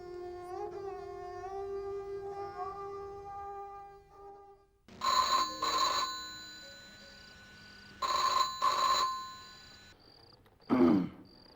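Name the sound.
telephone ringing at police station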